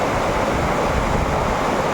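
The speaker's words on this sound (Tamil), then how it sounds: "அதுக்கு பக்கத்தில் திறந்துருக்கிற ஷட்டர்லேருந்து எப்படி தண்ணி வரதுன்னு பார்த்தா" Water rushing out through an open shutter at Kallanai dam, a steady broadband roar of churning flow with no breaks, loud and close, with no voices over it.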